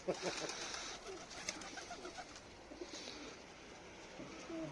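Pigeons coo softly and repeatedly in the background, low murmuring calls over a faint outdoor hum, with no talking.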